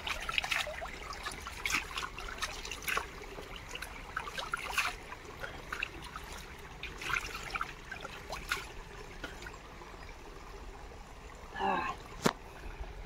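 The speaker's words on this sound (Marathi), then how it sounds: "हा बघा आता पाण्यामधून तोंड धुवायला जातोय." Face being washed in cool, flowing stream water in the Konkan countryside, with trickling and splashing close by over a steady outdoor water background and no talk.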